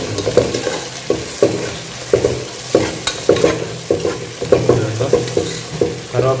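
Curry leaves and ginger garlic paste fry in a pan with a steady sizzle, overlaid by repeated scraping stirs from a spatula at a brisk rhythm, close and moderately loud.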